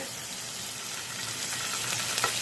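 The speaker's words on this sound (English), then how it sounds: "This will take literally no time to cook. Probably about 2 minutes on each side." Meat searing in a hot pan, a steady broadband sizzle that holds at an even level for a couple of seconds with a slight swell and a few pops near the end, close and without voices.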